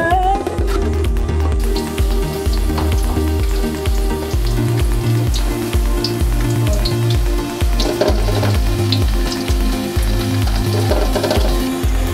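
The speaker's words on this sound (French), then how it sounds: "La marmite au feu." A pot of mashed banana set on a stove fire, giving a steady loud sizzling and bubbling with repeated low thumps and crackles throughout.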